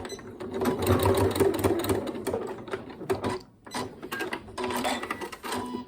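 Sewing machine stitching the sides of a quilted fabric snack bag, a steady close whirring run of rapid needle strokes that pauses briefly and then resumes.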